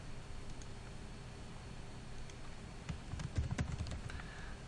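Keys tapped on a computer keyboard in a quiet room, a brief, soft run of clicks near the end amid faint background hiss, with no talking.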